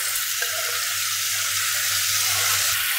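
Onion hits hot oil and clarified butter in a pan, a steady, even sizzle and crackle filling the whole stretch with a faint low hum beneath, no talking.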